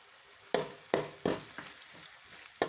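Chilli powder fries in a pan for pav bhaji with a soft, quiet sizzle, punctuated by several sharp spatula knocks at a fairly regular pace, with no speech.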